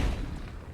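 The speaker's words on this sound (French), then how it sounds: "Explosion." A grenade explodes in the survival video game Last Day on Earth, one loud low boom at the start that rolls off into a fading rumble, with no talk over it.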